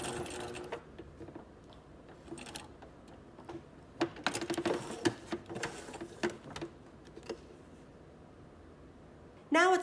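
A sewing machine stitches a pocket in short bursts of rapid ticking clatter separated by pauses, fairly close and moderately quiet.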